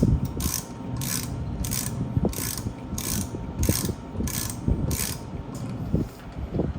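Hand ratchet snugging down bolts during a wheel bearing install on an Iron Blackbird motorcycle, a rapid series of close, crisp clicking bursts repeating in a regular back-and-forth rhythm, with no talking.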